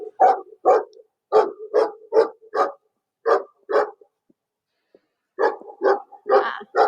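A dog at a factory barks loudly and close by in several quick bursts, pausing briefly before another run of barks.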